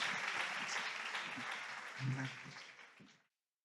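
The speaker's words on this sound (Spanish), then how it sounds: "Un aplauso para nuestros invitados." Applause for guests at a Spanish memorial tribute event, a dense crowd clapping steadily for about three seconds before fading out, with a brief low voice near the end.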